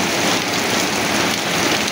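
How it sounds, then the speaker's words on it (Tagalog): Typhoon downpour, a thick, even hiss of heavy rain drumming nearby, brief and constant throughout. "Lakas ng ulan tapos may kulog pa"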